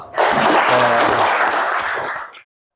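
Classroom audience clapping in applause for a student named Rival during an Islamic religious education teaching session, a dense, steady burst of many hands lasting about two seconds before cutting off abruptly.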